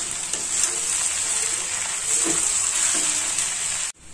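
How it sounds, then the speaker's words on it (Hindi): Washed puffed rice (murmura) roasting in a pan for upma, with a steady bright sizzle and a few soft scraping stirs, close and continuous without speech, ending in a brief drop. "मिक्स करने के बाद अब हम इसे 5 से 10 मिनट अच्छे से भून लेंगे"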